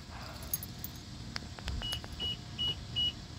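A car locking remotely from its key fob, with three short, clear electronic beeps spaced evenly toward the end, preceded by faint clicks and key jingling in a quiet outdoor setting.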